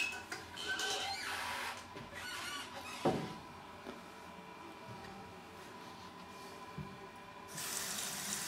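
Cold water running from a kitchen tap into a sink, a steady hiss and splash at the start that fades to quiet handling noises, then resumes briefly at the end, moderately faint.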